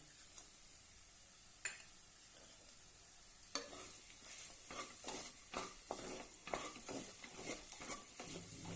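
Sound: stirring finger millet sheera with jaggery in a pan

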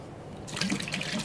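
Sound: water poured into pressure cooker with chickpeas

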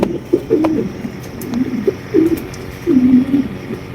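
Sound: Mondain pigeons cooing

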